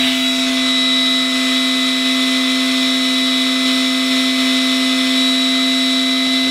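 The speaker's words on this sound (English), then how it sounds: "Spindle is on." An X-Carve CNC machine's spindle spins up and runs steadily, a loud, even high-pitched whine with a constant tone and no breaks, ready to carve.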